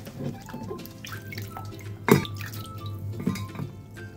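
Chicken feet washed under running tap water in a kitchen sink, a steady stream with drips, splashes and clanks of a bowl, close up, with one sharper knock midway.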